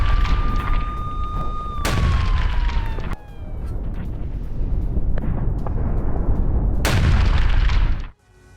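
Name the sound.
explosions from guided bomb attack on Russian troops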